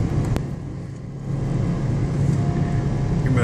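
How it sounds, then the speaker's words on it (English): A car engine drones steadily and loudly at high revs during a fast downhill run on Pikes Peak, a continuous rumble with road and wind noise filling the whole stretch. "Your motor's screaming."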